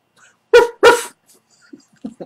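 A man imitates a dog with his voice, giving two loud, close barking yelps in quick succession, followed by a few faint, short grunting sounds.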